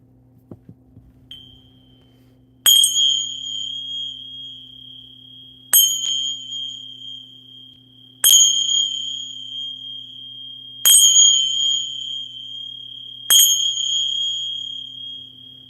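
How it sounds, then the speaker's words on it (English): Five bell strikes ring out alone in a quiet room, each a clear bright chime with a long, slowly fading ring, spaced about three seconds apart over a steady low hum, opening a session. "we're going to use the bells to clear and open this session"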